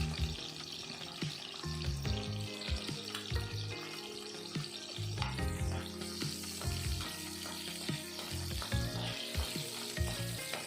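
Slit green chillies frying in oil in a pan, with a steady close sizzle and intermittent clinks and scrapes of stirring, with no voice.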